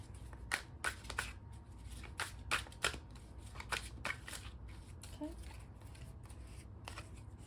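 Repeated bursts of tarot cards riffling and shuffling, several quick crisp flurries close by, with quieter shuffling between them.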